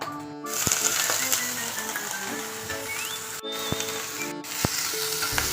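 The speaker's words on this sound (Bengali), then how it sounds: "এখন আমি এতে নুডলসগুলো ঢেলে দিব" Instant noodles hit a hot pan and sizzle, a soft crackling hiss with scattered pops and clicks of utensils, moderately close and fairly quiet, with no talking.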